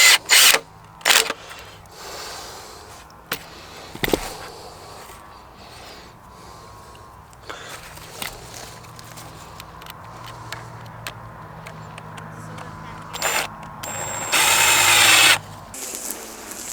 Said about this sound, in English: Well, both these are now cut, so all we got to do is screw them together, level up the bed, and the bed is made.